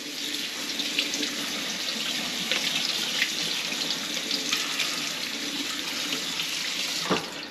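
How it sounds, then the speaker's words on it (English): Tap water runs steadily into a strainer of wild blackberries in a kitchen sink, a continuous close splashing hiss with small shifts in spatter throughout. "I'm going to let the water run in this one more time."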